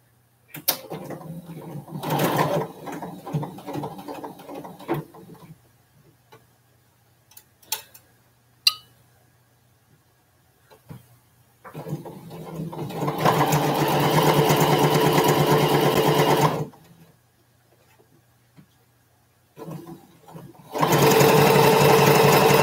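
A sewing machine stitches fabric in several bursts, a rapid mechanical whirring chatter that starts and stops, with a long steady run in the middle and quiet pauses between, close and clear.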